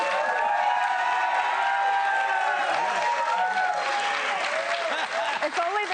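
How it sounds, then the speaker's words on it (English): A studio audience breaks into sustained, loud applause with some cheers and whoops, a steady wash of clapping lasting throughout. "We're going to just keep clapping."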